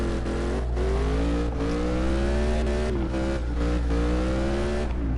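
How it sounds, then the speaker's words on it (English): A V8 engine in the game CarX Drift Racing Online revs hard and steadily during drifting, its pitch rising and dipping as the throttle is worked, loud and close throughout with no talking. "Listen to the sound of that V8."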